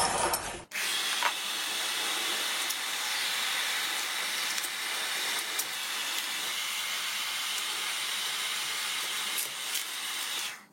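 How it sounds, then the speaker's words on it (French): A steady, loud rushing hiss of a hair dryer blowing continuously, starting abruptly after a brief moment and running unbroken to the end. "j'ai sorti mon super sèche-cheveux"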